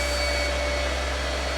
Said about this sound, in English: So essentially it's a big vacuum cleaner.